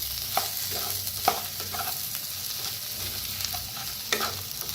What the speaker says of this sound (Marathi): आता थोडीशी साखर टाकायची, चवीप्रमाणे मीठ, कोथिंबीर। आता मिक्स करून घेऊया।